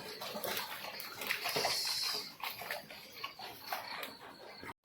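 Wild bharangi leaves being washed in water by hand, soft splashing and sloshing close by with faint background noise, at low level and with no talking.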